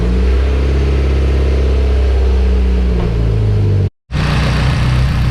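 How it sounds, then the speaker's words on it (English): A Mitsubishi Evo X engine, newly fitted with an MHI 18k turbo, runs loud and close with a steady low drone and shifting pitch, then cuts out abruptly for a moment before the running sound returns. "Let's plug the relay back in for the fuel pump and see if it starts."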